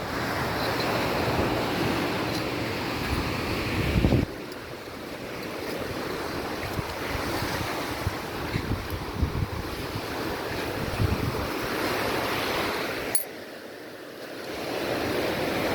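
Strong wind blows across the microphone at the seashore, a continuous rushing roar mixed with waves washing in, steady and close with brief gusts and a short lull near the end.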